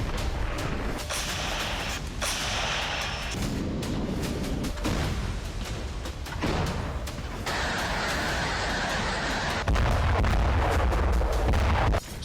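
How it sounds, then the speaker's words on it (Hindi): Repeated rocket strikes on a single target in the Russia-Ukraine war produce a dense, continuous barrage of booms and crackling blasts, loud throughout with no voices. "सिर्फ 50 यूक्रेनी सैनिकों को मारने के लिए 20 से ज्यादा रॉकेट हमला।"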